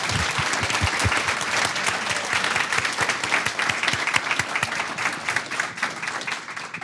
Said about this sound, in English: a huge round of applause for Cecile Richards